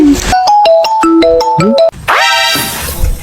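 A phone's melodic ringtone plays a quick run of bright electronic notes, then breaks into a sweeping chime flourish, loud and close.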